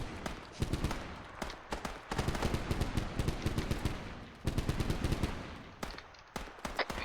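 Rapid automatic gunfire rattles almost without pause in a video game, dense bursts of shots with short breaks between volleys and moderate loudness throughout.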